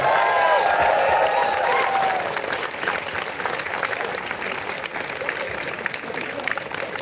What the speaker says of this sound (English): I think you all deserve a very big round of applause. Clap for yourself.